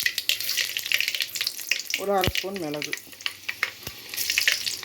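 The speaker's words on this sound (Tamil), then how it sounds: "இப்போ 1 ஸ்பூன் வெந்தயம்," Fenugreek seeds and pepper crackle and sizzle steadily in hot oil for Chettinad brinjal thokku, a continuous bright frying hiss beneath a voice speaking briefly in the middle.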